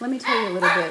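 A dog barks briefly in a home kitchen, partly masked by someone talking over it at close range.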